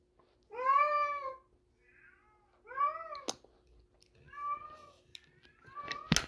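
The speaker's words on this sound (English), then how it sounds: "I have a cat named Chicken." A house cat meows in short, clear, rising calls, four or five of them spaced out over quiet room tone, close to the microphone, with a faint tap near the end.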